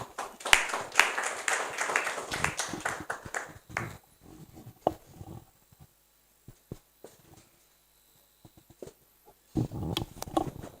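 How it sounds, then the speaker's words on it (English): A burst of audience applause at an investor meetup in Lagos fades out over a few seconds, leaving a quiet room with scattered small noises before another short patter of clapping. "Please clap for Tony."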